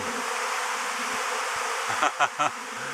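A swarm of honey bees settling into a hive makes a dense, continuous buzzing drone, loud and close, with a few brief sharp knocks near the end.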